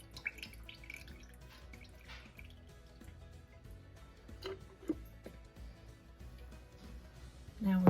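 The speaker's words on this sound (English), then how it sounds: "strain most of the liquid out" Liquid from a jar of home-canned chicken stroganoff with mushrooms and onions drains off in soft, faint trickles and drips, close by, with a low kitchen background throughout.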